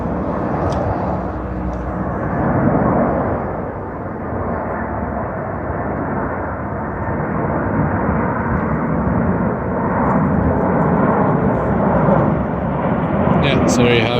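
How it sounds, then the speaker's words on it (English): An airplane coming in to land roars steadily overhead in Saint-Laurent, a loud broad rumble that swells slightly as it passes low, continuing throughout without a break. "just so I can get a shot of this plane coming by"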